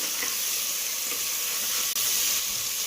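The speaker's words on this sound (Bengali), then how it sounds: "দিয়ে নেওয়ার পর পেঁয়াজ কুচিগুলো দিয়ে দেবো ভাজা ভাজা হওয়ার জন্য" Chopped onions sizzle in hot oil, a steady crackling hiss with a brief dip near the end.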